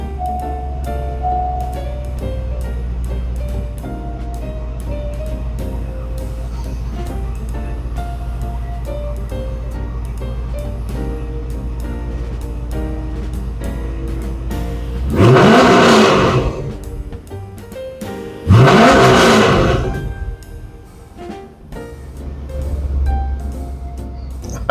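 A 2001 Chevrolet Corvette with manual clutch runs at a steady, close idle, then gives two sharp revs that rise and fall before settling back to a low rumble.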